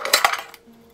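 A small metal pot from a 100-yen shop clanks twice in quick succession, a bright close rattle that fades into a faint ringing.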